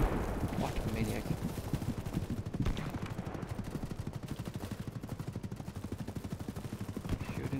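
Enemy gunfire in the shooter game BattleBit Remastered, a fast rattle of automatic shots crackling continuously at moderate distance, with a player talking over it.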